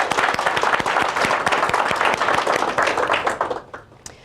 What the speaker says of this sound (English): I think they deserve another round of applause because they've just done amazing work.